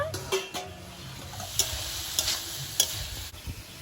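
A spoon scrapes and stirs a curry in a frying pan, with a soft steady sizzle underneath and a few sharp clinks of metal against the pan, close and fairly quiet.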